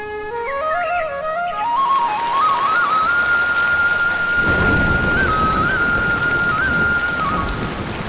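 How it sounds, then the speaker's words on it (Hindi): Steady rain hisses as a sound effect in an animated Hindi/Urdu bedtime story, growing denser partway through while a bright whistle-like melody climbs and then holds a sustained tone above it; no one speaks. "बारिश के रुकने का इंतजार कर रहे होते हैं"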